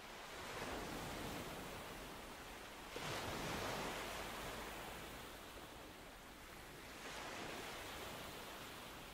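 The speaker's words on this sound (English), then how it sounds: "Listen to the timeless curl of the waves" Ocean waves wash onto a sandy beach in slow, steady surges, a broad hiss of surf swelling and receding every few seconds, soft and continuous with no voices.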